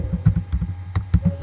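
Close, rapid typing on a computer keyboard, with irregular clusters of light plastic key clicks and taps and no voices.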